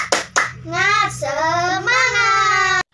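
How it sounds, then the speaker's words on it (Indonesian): A class of children does the spirit clap, two sharp claps close together followed by a loud chanted call in unison that stretches on for about two seconds before cutting off. "Kita tepuk semangat ya. Coba, tepuk semangat."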